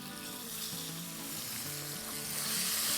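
Steady, bright sizzling of ginger paste frying in a hot pan for kadhi, with occasional stirring scrapes and no voices.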